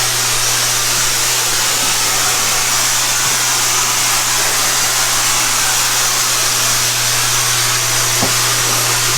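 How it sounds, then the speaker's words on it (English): An InterVac CS Series RV central vacuum runs with a steady, even roar and a constant low hum, unbroken for the whole stretch with no voices. "take this hose right here and attach it to your central vac, turn it on"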